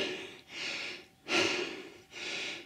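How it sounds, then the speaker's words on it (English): Three heavy breaths close to the microphone while hiking uphill, each a drawn-out huff separated by short pauses, like someone panting from exertion. "Today you're gonna hear a lot of panting"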